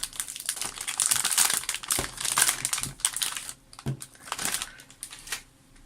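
Plastic and paper packaging of a Moyu speed cube box crinkles and rustles up close, with irregular crackling handling noises and a few sharper tearing bursts throughout.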